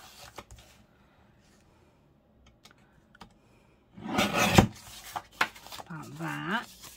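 Scissors cut paper for a scrapbook pocket in a Graphic 45 Woodland Friends project, giving a short close burst of crisp snipping and rustling after quiet ticks, then soft handling as a voice speaks.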